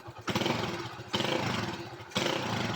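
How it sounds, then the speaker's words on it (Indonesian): A Honda Win 100 motorcycle engine runs with a rough, popping exhaust, rising in three bursts as the throttle is blipped, close by with no talk. "Ciri khas dari motor ini itu suaranya tuh kayak seperti botol meletup."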